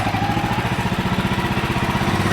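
A sawmill engine starts up and keeps running, a steady pulsing motor drone that holds loud and close throughout.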